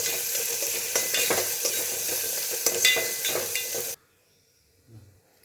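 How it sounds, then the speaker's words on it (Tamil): Chopped onions sauté in a bronze pot, a steady close sizzle and hiss for about four seconds before it abruptly cuts to near silence. "வெங்காயம் நல்லா வதங்கணும்."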